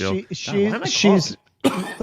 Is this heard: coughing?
yes